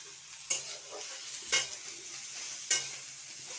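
Fried potatoes are stirred in a pan, giving three distinct scraping strokes at an uneven pace over a low background sizzle. The sound is close and fairly quiet, with no voices.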